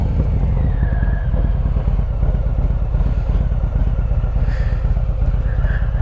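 A Harley-Davidson motorcycle is ridden at a steady cruise, its engine a deep, continuous throbbing rumble with rough clattering texture and wind, close and loud without talking.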